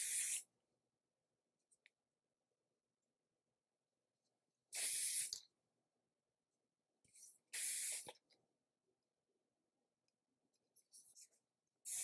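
Hairspray hisses in short, sharp bursts onto hair, three main sprays plus a couple of lighter puffs, close and loud against near silence.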